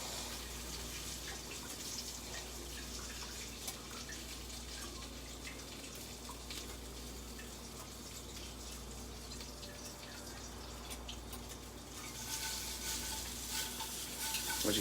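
Chicken sizzles crisply in a hot oiled pan while pieces are turned, a steady faint crackle and hiss with occasional scraping and clicks, growing slightly louder toward the end.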